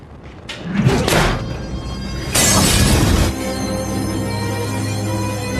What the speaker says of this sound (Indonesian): Mickey dan anak buahnya mencoba melempar bom Molotov ke dapur Anna